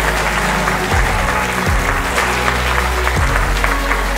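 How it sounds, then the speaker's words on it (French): Award winners at a ceremony receive loud, steady applause from a large audience, continuous clapping throughout with a low hum underneath. "Je voudrais vous demander d'applaudir très fortement tous ces lauréats qui sont là"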